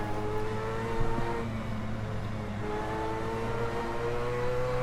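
A Mazda 787B Le Mans race car in Assetto Corsa at Mugello, its engine droning steadily with sustained harmonic whine that shifts pitch as revs change, loud and continuous with no talk.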